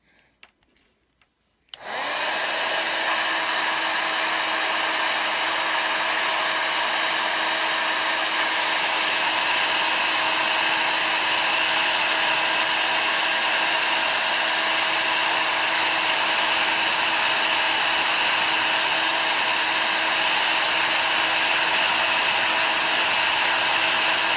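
A heat embossing tool switches on with a click and blows hot air onto a holiday card, a loud, steady, close whoosh that runs unbroken for over twenty seconds.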